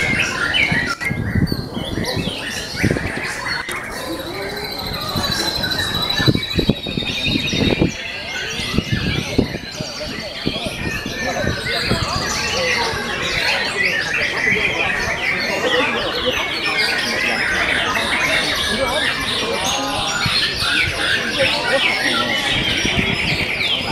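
A white-rumped shama (murai batu) sings in a bird contest arena, its bright, varied whistles and chattering phrases running continuously at moderate loudness over a busy background of other birds and crowd murmur.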